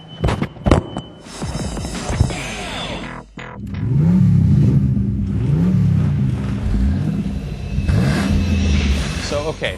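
In a vehicle combat driving game, a car engine revs in repeated rising and falling swells after a burst of gunfire and impacts, loud and near, while a person talks.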